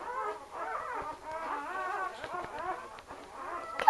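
A kennel puppy whimpers and howls in a series of high, wavering cries that rise and fall, fairly close and continuous, ending with a brief sharp noise.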